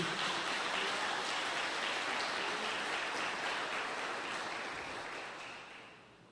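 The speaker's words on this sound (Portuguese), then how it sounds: "Dê um aplauso bem forte ao Senhor Jesus" A church congregation applauding at a Christian seminar, steady dense clapping that fills the space at a moderate level and slowly fades out toward the end.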